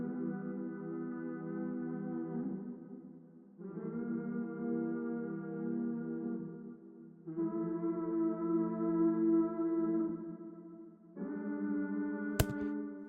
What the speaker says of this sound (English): I added a choir, and all I did was, you know me, I like to do quite close voicings on choirs